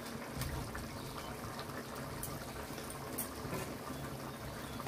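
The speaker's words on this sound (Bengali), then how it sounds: "ঝোলটাকে আরেকটু ফুটিয়ে নিব।" Egg curry gravy boils in a pan, a soft, continuous bubbling and simmering heard close up with no talk.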